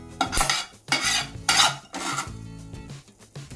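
A spatula scrapes and stirs through dry watermelon and sunflower seeds roasting in a pan, producing repeated rasping, rattling sweeps close up, with no talking.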